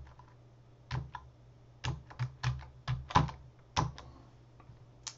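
Keystrokes on a computer keyboard as a password is entered: about eight close, crisp clicks in an irregular rhythm, some in quick pairs, over a faint low hum and with no talking.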